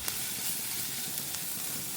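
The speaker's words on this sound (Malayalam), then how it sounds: "ഇതിൻ്റെയൊക്കെ പച്ചമണം മാറുന്നത് വരെ ഇളക്കി കൊടുക്കണം." Onion masala sizzling and frying in a pan while being stirred, a steady close hiss with a few faint scrapes, no voices.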